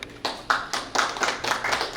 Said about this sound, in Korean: 여러분 박수로 맞이해 주시죠.